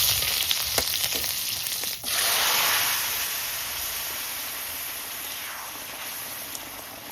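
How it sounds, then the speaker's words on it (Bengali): Whole cumin and crushed garlic sizzle in hot oil as a tempering for a pui shak and crab dish, a loud, steady frying hiss that dips briefly near two seconds, then carries on unbroken. "তেলের মধ্যে দিয়ে দিচ্ছি কয়টা গোটা জিরে, একদম অল্প পরিমাণ থেতো করা রসুন"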